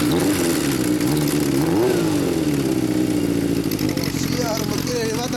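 Revving of a 1980 Kawasaki Z400FX motorcycle fitted with a Moriwaki exhaust, a loud, close, steady engine note that rises and dips through several throttle blips, with voices faintly underneath.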